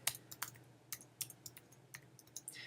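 Keys on a computer keyboard are typed in an irregular run of quick, crisp clicks, close and quiet, with no voice over them.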